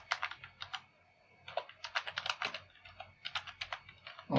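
Typing on a computer keyboard while writing Arduino code, quick bursts of crisp key clicks with short pauses between words, close and clear with no talk over it.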